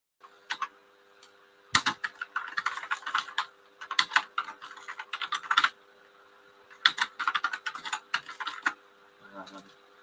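Someone types on a computer keyboard in irregular bursts of quick, close clicking, separated by short pauses.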